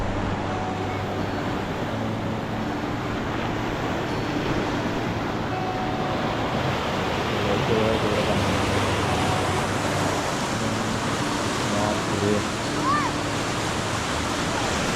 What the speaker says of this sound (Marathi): ब्रिजवरून जातो पाणी